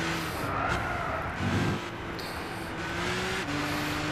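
A BMW M4 driving in Gran Turismo 6, steady engine drone with rising and falling tones as gears shift, plus a short tire skid, close and continuous without talk.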